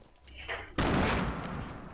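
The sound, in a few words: gunfire from a squad shooter video game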